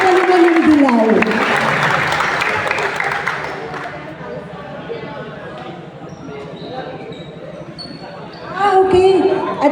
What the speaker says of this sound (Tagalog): hinihiling ko po ang malakas na palakpakan para ho sa kanyang closing remarks